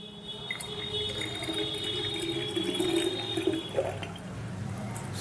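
Water pours steadily into the tank of a Morphy Richards New Europa 800-watt espresso and cappuccino machine, a close, continuous trickling and filling sound that rises slightly as the tank fills.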